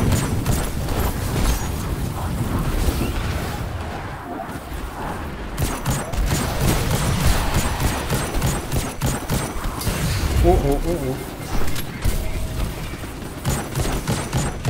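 Scout rifle gunfire in Destiny 2 amid dense game combat, with loud, continuous shots, booms and mechanical clatter layered together throughout.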